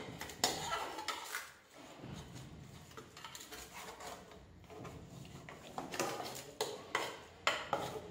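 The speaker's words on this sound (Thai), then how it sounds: "พยายามคนให้ทั่วนะผมเพราะว่าเดี๋ยวพอเข้าไปข้างในแล้วเราจะไม่ได้คนอีกแล้วนะครับ" Snakehead fish is stirred in a pot before pressure cooking, with irregular clanks and scrapes of utensil against metal that are close and moderately loud, with no talking.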